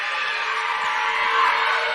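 A crowd at a women's college volleyball match on senior night keeps up a steady roar of cheering and shouting, loud and unbroken throughout.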